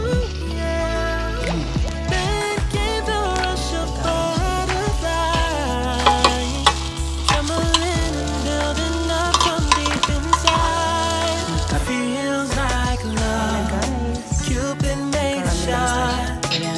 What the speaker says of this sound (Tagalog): Ipapakaramelize lang natin siya.